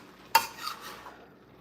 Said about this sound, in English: So I'm gonna just get some more of the juices here and keep mixing it a little bit